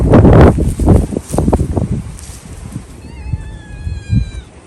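A cat in a spring garden being cleared meows several times in quick, loud calls close by, then quieter mews follow while birds chirp faintly in the background.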